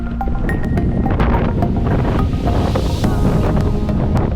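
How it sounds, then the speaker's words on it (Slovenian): Strong wind buffets an outdoor microphone in Namibia, making a steady, loud low rumble that runs unbroken from start to end with no talking. "Malo sicer piha, da sem si dal tole gor, ampak bo v redu."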